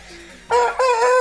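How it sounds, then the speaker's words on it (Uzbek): A Chinese breed rooster crows loudly and close by, one drawn-out crow in two strong segments after a brief quieter sound. "Xo'rozimiz sotuvda, mana obunachilar."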